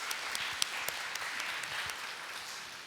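A church congregation applauds a missionary couple during a Sunday worship service in Seattle, a steady, dense wash of clapping from many hands that holds at an even level throughout.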